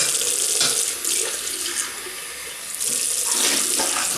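Tap water runs into a sink while a razor and face are rinsed, a steady hissing stream that dips and splashes as hands move through it.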